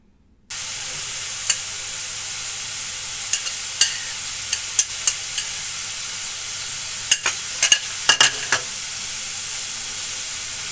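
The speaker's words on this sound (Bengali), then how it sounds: "ভালোভাবে নেড়েচেড়ে নিচ্ছি।" Dried chepa shutki fish fries with spices in a hot pan, a loud continuous sizzle with scattered scraping clicks from a spatula as it is stirred throughout.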